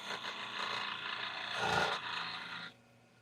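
A carbide woodturning tool cuts into spinning wood on a lathe, giving a steady, close, hissing scrape that swells to a harsher rasp near the middle and then stops abruptly.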